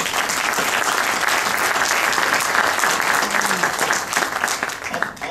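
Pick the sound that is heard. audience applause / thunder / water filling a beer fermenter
audience applause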